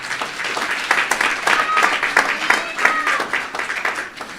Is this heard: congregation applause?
yes